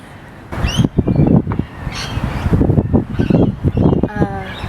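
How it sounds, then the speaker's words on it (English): Birds in trees in Peru chirp and call in short bursts close by, with a brief trilling phrase near the end, mixed with nearby rustling and outdoor noise. "Listen to the beautiful birds."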